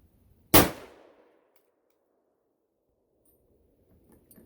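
A single pistol shot fired outdoors at a 600-yard target: one loud, sharp crack with a short fading tail, followed by near silence.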